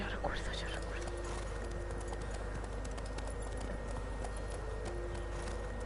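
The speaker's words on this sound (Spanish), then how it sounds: "¡Caballos! Putos caballos." Horse hooves clip-clop steadily in The Witcher video game, a continuous mid-level rhythm of hoofbeats under faint ambient game sound and quiet voices.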